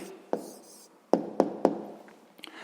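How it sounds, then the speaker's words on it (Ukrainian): A pen writes an answer by hand on paper, giving a few short, quiet scratching strokes close by in an otherwise hushed room. "записуємо відповідь, пишемо відповідь"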